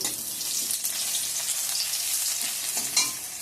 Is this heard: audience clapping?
no